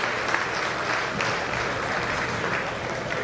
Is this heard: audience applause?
yes